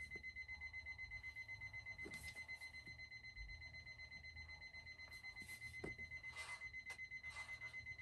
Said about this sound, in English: That's an alarm clock that I can't find